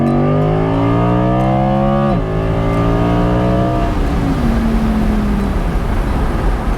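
An Audi R8 Spyder's naturally aspirated 5.2-litre V10 sounds loud and close, its pitch sliding down in a long, smooth fall after a rev, then settling into a lower drone with road noise.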